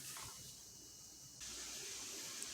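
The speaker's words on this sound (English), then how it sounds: "excuse the noise in the background. It's raining outside." Steady broadband hiss of rain outdoors, constant throughout with no voices, growing slightly louder partway through.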